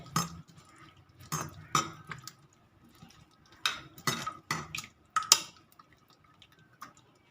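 Pieces of fish worked by hand in a bowl with salt, sugar and a little water, giving intermittent wet squelches, drips and light clinks against the bowl in short bursts, close by and with no voices.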